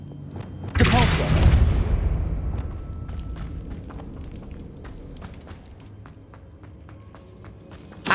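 A Depulso spell is cast in Hogwarts Legacy with a sudden loud whooshing blast that decays over a couple of seconds, followed by softer scattered thumps and clicks.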